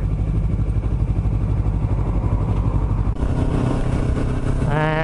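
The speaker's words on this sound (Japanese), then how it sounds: "バイクがやっぱり多い。" Motorcycle engines drone loud and close while riding through busy town traffic in Chichibu, a steady rumbling hum that holds without a break and shifts tone near the end.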